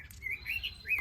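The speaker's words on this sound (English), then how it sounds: "the Peking robin is singing from the early spring to late autumn" Peking robin song in an aviary: a run of bright, warbling whistled phrases, close and clear, over a soft low rumble of background noise.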